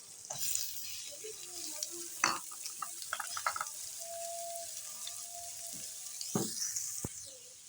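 Coarsely pounded garlic and chopped onion fry in a pan for a Chicken Yogurt Tikka curry, a soft steady sizzle with scattered stirring clinks and scrapes, fairly quiet and close, with no talk.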